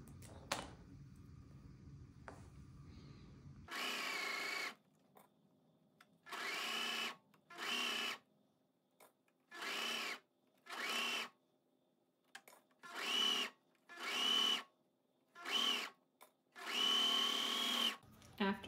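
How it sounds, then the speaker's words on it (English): A sewing machine stitches cardigan sleeves into place in a run of short, evenly spaced bursts, each lasting about a second, separated by brief pauses. It sounds close and clear. "then we're ready to go sew these sleeves into place"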